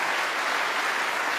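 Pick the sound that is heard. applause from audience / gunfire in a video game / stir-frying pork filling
applause from audience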